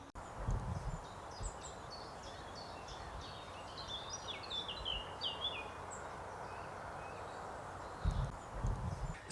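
A songbird outdoors sings faint, rapid strings of high chirping notes in a continuous run over a soft ambient background, with a few low thumps near the start and end.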